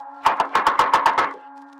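Eight quick, frantic knocks rap on a door in a tight burst, loud and close, followed by a low steady hum.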